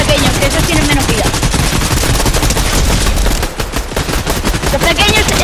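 Rapid bursts of gunfire from a legendary shotgun in a video game, dense and loud throughout with a brief dip midway, a voice faintly under the shooting.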